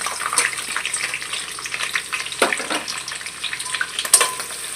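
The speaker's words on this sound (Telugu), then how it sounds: "ఫ్రై చేసుకోవాలండి బ్రౌన్ కలర్ వచ్చే వరకు" Onions and green chillies fry in spices in a pan for prawn biryani, a steady crackling sizzle throughout with occasional stirring clatter.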